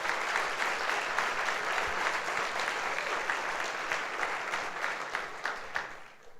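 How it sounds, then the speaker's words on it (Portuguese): Sunday church congregation breaks into sustained applause, a dense even clatter of many hands filling the space and thinning slightly toward the end. "Dá um aplauso a Jesus."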